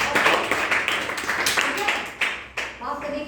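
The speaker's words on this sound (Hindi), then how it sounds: "चलिए ताली बजा दीजिए" An audience claps in a room, a cluster of handclaps that swells then fades irregularly, with some voices mixed in.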